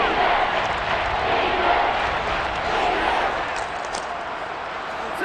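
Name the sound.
crowd cheering in Madden NFL 23 video game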